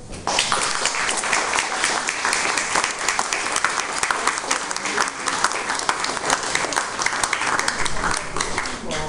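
An audience at a book launch gives dense, sustained applause that stays loud and even for about nine seconds, many hands clapping at once close to the listener, with some faint voices mixed in.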